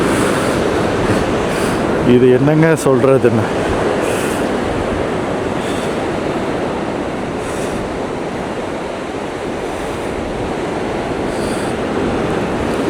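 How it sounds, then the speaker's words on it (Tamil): Sea surf breaking on a rocky coast near Albany and Denmark in Western Australia, a steady loud roar of waves and foam across the whole stretch, with someone speaking briefly over it early on. "இங்கே பாருங்கள் கடல் சத்தத்தை"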